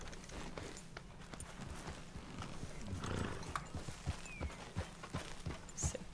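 Horses in the Red Dead Redemption 2 game walk along with an irregular, soft clip-clop of hooves over a quiet outdoor ambience, fairly faint and steady throughout.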